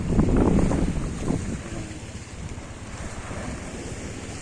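At the port of Legazpi City, sea waves wash and surge with a steady roar of wind buffeting the microphone, louder at first and then settling into a constant rushing wash. One brief spoken word is heard.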